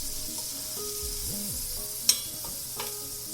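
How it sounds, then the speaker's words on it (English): Mushrooms and sausage sizzle steadily in a pan on a stove, a soft continuous frying hiss with a brief clink of a utensil and no talking. "Mushrooms are grilling up real nice."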